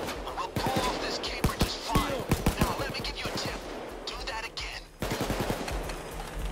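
Rapid automatic gunfire from a Payday 2 heist game, bursts of sharp close shots in quick succession across the clip, with brief pauses and the player's voice talking over parts of it.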